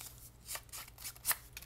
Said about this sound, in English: By just taking your scissors, you can just give it a little bit of a distressed look like that.